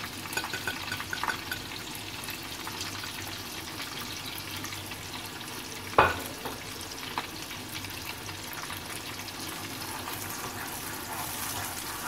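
Ground tomato, yogurt and onion masala with spices frying in a pan, a steady soft sizzle with faint bubbling throughout, one brief clatter partway through, no voices.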